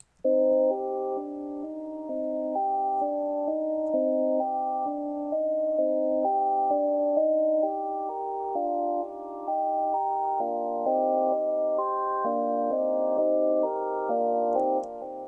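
A synthesizer melody plays alone in FL Studio, a sequence of steady mid-pitched notes stepping along at a moderate, even pace without drums or bass.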